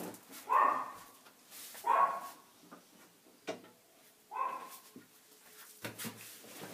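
A few separate dog barks, spaced a second or two apart, sounding muffled and somewhat distant, with quiet gaps between them.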